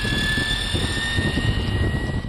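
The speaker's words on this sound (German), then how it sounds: "Und außerdem ist auch der turbinenartige Sound des Motors gewöhnungsbedürftig." A Vespa Elettrica L3E electric scooter's motor gives a steady, turbine-like high whine with sustained tonal lines over a low rumble, continuous and fairly loud, with no talking.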